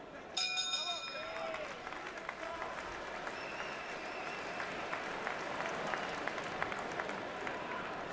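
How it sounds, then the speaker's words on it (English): A boxing arena crowd at a Carl Frampton fight breaks into scattered, fairly quiet applause that carries on evenly, with a bell-like ring at the very start. "One or two appreciative rounds of applause."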